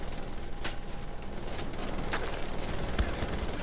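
Gunfire in the shooter Wolfenstein: The Old Blood, a few sharp shots cracking through a dense, noisy game mix over a few seconds.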